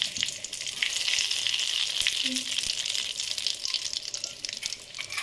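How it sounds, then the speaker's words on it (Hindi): Mustard-seed spice mix, chilies and bay leaf crackle and sizzle in hot oil for a dal dish, a steady, close frying hiss that holds throughout, with faint stirring clicks. "प्रथम तेल तातिले आम फुटण पकईदे हाफ चामच दवा फुटण लंका पकईले तेजपत्ता"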